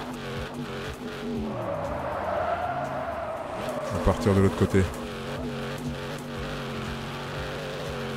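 Modern Mustang accelerating in the Denizen video game, its engine note rising with a crackling, popping burst partway through, heard under continuous talk.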